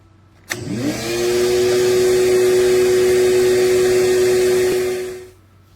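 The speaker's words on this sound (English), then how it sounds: "No trouble at all for a 15 amp shop vac." A 15 amp shop vac powered by a portable power station switches on with a sharp click and a rising whine, then roars steadily and loud for several seconds before winding down.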